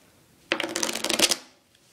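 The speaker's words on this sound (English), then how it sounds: "I'm going to riffle shuffle it into the deck." A deck of playing cards is riffle shuffled close up, a quick fluttering burst of cards interleaving for about a second, crisp and alone before fading to quiet.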